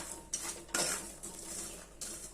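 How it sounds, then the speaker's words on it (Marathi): Peanuts roasting in a pan for salted nuts, turned over with a spoon, making a few close scraping and rattling bursts against the metal with quiet gaps between them. "अशा पद्धतीने छान असं परतून घ्यायचं सगळं भाजून घ्यायचं"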